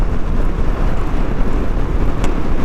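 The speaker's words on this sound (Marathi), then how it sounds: "वारा खूप म्हणजे खूप आहे की गाडी हलते माझी एवढा वारा आहे" Heavy, steady wind buffeting against a car on the Mumbai–Goa highway (NH66), rocking it, a constant low rumble with gusty roar and no voices.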